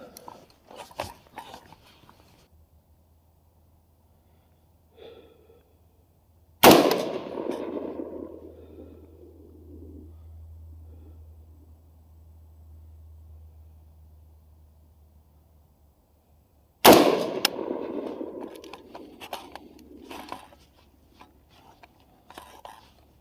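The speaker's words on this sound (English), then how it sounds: "So I'm going to go ahead and shoot this at 100 yards" Two loud, sharp AR-15 rifle shots fired at a 100-yard target, about ten seconds apart, each trailing off in a long echoing decay, with quiet murmurs and a low hum between them.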